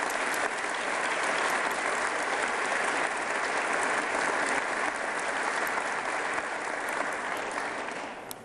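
A large crowd at a 2022 State of the State address gives a long, even round of applause, dense and sustained before tapering off at the very end.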